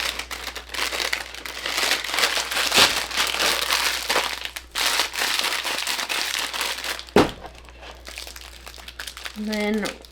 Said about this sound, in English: I wrap it up in a little piece of bubble paper because it's absorbent